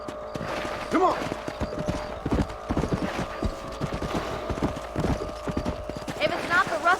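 Steady clip-clop of horse hooves trotting close by in Red Dead Redemption, with a brief whinny near the start and another near the end, under continuous talk.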